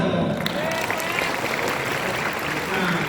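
An audience at a national youth conference applauds, dense sustained clapping filling the room from start to finish at fairly even loudness, with no clear talk over it.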